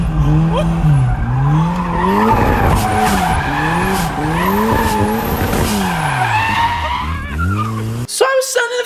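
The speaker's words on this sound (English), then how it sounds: "So I was sending a few donuts" A Mazda Miata spins drift donuts in an empty street spot, its tires squealing in long, wavering whines that rise and fall with each loop, loud and close, ending with a brief clatter.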